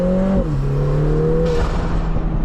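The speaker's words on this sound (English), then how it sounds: "induction noise, or let's say turbo blow-off noise that you hear" A Lotus Emira Turbo SE, a 400 hp turbocharged sports car, sounds a steady engine tone with a falling whistle and a brief whoosh of turbo blow-off and induction noise, close and moderately loud.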